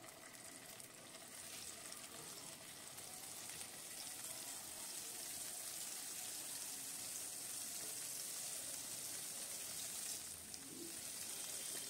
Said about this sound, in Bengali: এবার কড়াইতে সামান্য তেল দিয়ে